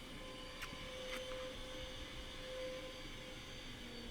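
A vacuum cleaner drones steadily nearby with a constant motor whine and airy rush, unchanging for the whole stretch.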